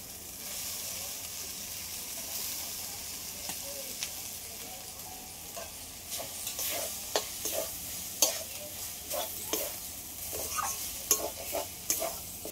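Soybean chunks stir-fried in a cooked-down spice masala with a quiet sizzle and frequent sharp scraping, tapping strokes of a spoon against the pan that grow more frequent and louder toward the end.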